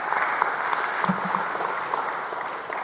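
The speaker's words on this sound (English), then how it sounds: "we give her a round of applause?" A room full of people applauding at a college chapel service, a continuous wash of clapping at moderate volume.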